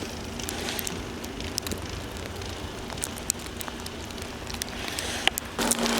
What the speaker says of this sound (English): it's actually snowing and icing right now